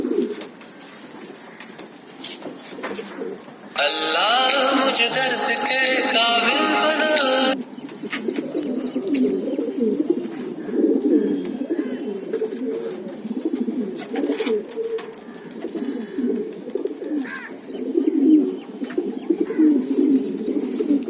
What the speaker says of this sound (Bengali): আরো কাছে কিছু পায়রা।